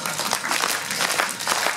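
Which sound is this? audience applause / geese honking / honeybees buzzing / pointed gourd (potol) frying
audience applause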